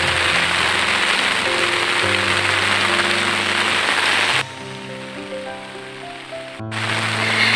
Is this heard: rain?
yes